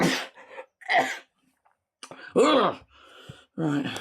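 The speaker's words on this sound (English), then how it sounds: "Hang on, I'm going to sneeze." A single sharp sneeze bursts out mid-sentence, loud and close, surrounded by short bits of a man's speech before and after.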